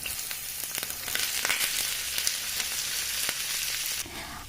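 Potato and cauliflower pieces fry in oil with cumin seeds in a non-stick pan, giving a loud, dense crackling sizzle with scattered pops that drops off sharply near the end.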